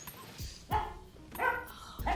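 A puppy barks and yips in several sharp bursts, close by and fairly loud, with short gaps between them and no talking.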